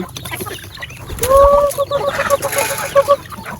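Fighting chickens at a rural Lao home, close and loud: a burst of scuffling followed by a rhythmic series of sharp clucks, with bits of background noise around them.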